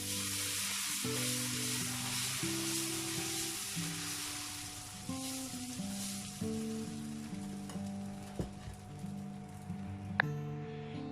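Dosa batter for a Mysore masala dosa sizzles steadily on a hot griddle, a close, continuous frying hiss with a soft tonal melody running underneath throughout.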